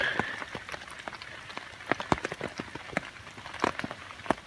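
Raindrops patter irregularly on a taut canvas French Army F1 tent close by, a soft steady crackle with scattered louder drips.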